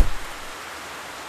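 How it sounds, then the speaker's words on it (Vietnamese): Heavy rain pours in a dense, steady hiss after a brief thump at the start, close and unbroken with no voices. "Trời mưa to quá, mưa thế này làm sao đến trường được đây?"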